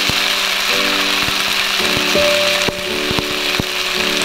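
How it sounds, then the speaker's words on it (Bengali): A mixer grinder purees onions and tomatoes into a paste with a loud, steady motor whine. Faint clicks and knocks from the jar run through it, with no one speaking. "পেঁয়াজ সব একসাথে, টমেটো সব একসাথে মিক্সিতে করে পেস্ট করে নিই"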